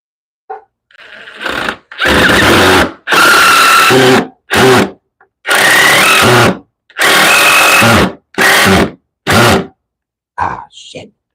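A power drill drives screws into bench wood in repeated loud bursts of whirring, each lasting about one to two seconds with short pauses between them, close by.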